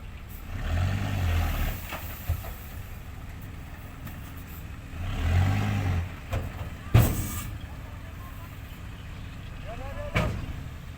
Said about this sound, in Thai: เป็นดินทรายเปียกเนืด แล้วบางจังหวะเด้าด้วย ก็เลยทำให้ รถ นี่เสียจังหวะครับ